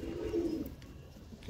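Pigeons perched above and below in a loft give a short, low coo near the start, followed by quieter rustling and faint background noise.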